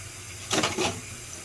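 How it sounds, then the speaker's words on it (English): Running water rinses old soil mix from a plant's roots during a switch from soil to semi-hydro, a brief soft splash of flow lasting under half a second against quiet background. "This mix probably needs to be refreshed, so I just rinse it out."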